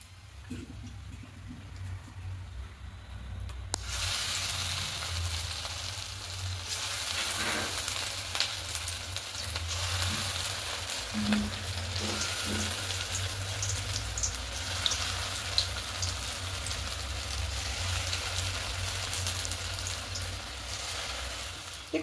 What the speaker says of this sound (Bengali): দেখুন এগুলো একটু কড়া করে ভাজা হয়ে গেছে।